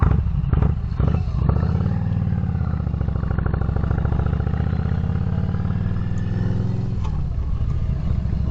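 A motorcycle roars steadily and close up throughout while being ridden, its engine holding a loud, sustained drone with a brief dip near the end before picking up again.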